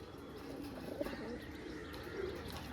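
Pigeons coo softly against a steady background murmur, with a few faint chirps mixed in.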